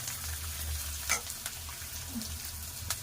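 Green chillies fry in hot oil for cabbage upma, giving a steady close crackling sizzle with a few brief utensil touches and no voices.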